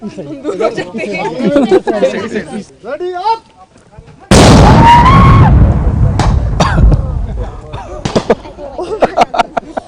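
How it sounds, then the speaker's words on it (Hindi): A hand grenade thrown at a training range detonates in a sudden loud blast with a rumbling tail, followed by scattered pops and sharp cracks; people chatter excitedly before and after. "Hand grenade. Is it going to explode?"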